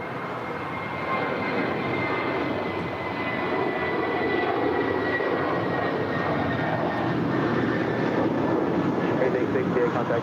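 A 12-year-old Spirit Airbus A320 jet airliner bound for Dallas Fort Worth roars steadily at LAX, a loud sustained engine rumble that swells slightly and holds with no voices over it.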